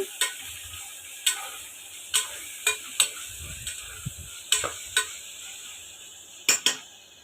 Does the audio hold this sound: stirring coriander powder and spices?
yes